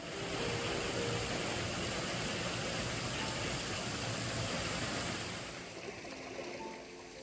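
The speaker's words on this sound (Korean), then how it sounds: "시냇물 소리가 너무 듣기 좋아요." A mountain stream runs beside a walking path, giving a steady, close rushing wash of water that holds evenly throughout and eases slightly near the end, with no voices.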